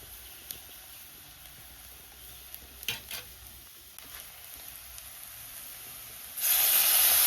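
Ground coconut paste goes into a simmering fish curry with mango. Quiet clinks and stirring come first, then a sudden loud, steady hiss of sizzling rises near the end.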